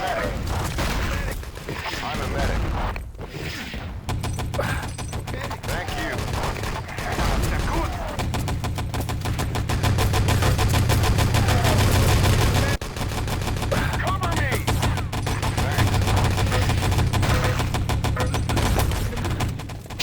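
Gunfire in the World War II shooter Wolfenstein: Enemy Territory rattles almost nonstop, with dense automatic bursts, scattered single shots and heavy booms across a busy, loud battlefield mix, while voices call out over the shooting.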